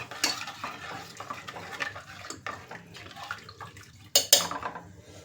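Water is poured into a pot of mint rice being cooked from a quarter kilo of rice, giving close splashing and sloshing with a few metallic clinks of the vessel and no voices.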